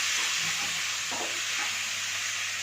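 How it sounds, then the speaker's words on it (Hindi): Vegetables being stirred with spices and salt in a hot pan, giving a soft continuous sizzle and hiss with a few brief stirring scrapes, fairly quiet. "नमक डालेंगे और जो सब्जी है अच्छे से मिक्स कर लेंगे मसाले के साथ।"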